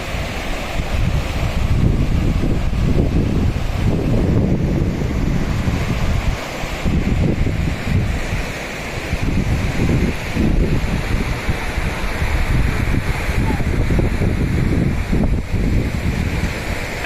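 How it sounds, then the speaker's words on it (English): Snowmelt stream in Ala Archa park near Bishkek, Kyrgyzstan, rushing in a steady, dense wash of water that stays loud and close throughout, with gusts of wind buffeting the microphone. "this water is the melted snow from the mountain peaks"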